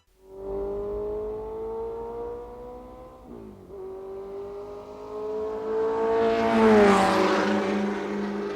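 A car engine holds a steady high-pitched drone, dips briefly as it shifts, then climbs louder into a roaring rev.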